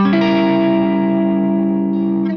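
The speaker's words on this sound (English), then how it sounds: "the 7th degree becomes a diminished 7th when you extend it to a 7th, which sounds like this." A single distorted electric guitar diminished seventh chord struck once and left to ring, sustaining evenly for a couple of seconds, loud and close with no other sounds.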